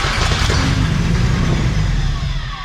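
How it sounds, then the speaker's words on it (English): The engine of a 1983 Datsun 280ZX that sat in a field for 34 years runs loudly up close. It gives a rough, steady low rumble that eases slightly toward the end. "I actually managed to get the engine started"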